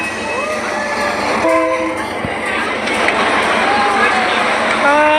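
Train at Maeklong railway station in Thailand, a loud rumble of rail cars with a horn sounding and clanking wheels, while people talk nearby over the noise.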